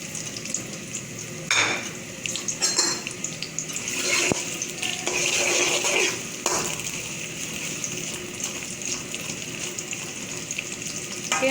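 Chopped onions fry in hot oil for a minced-meat bhuna qeema, giving a steady broadband sizzle with bursts of stirring and scraping, close and moderately loud, with no talk.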